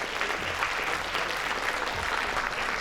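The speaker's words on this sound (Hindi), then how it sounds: "बस जोरदार तालियां लता जी के लिए।" Sustained applause from a comedy poetry audience for the poet Lata Haya, steady and fairly full throughout, with no voices over it.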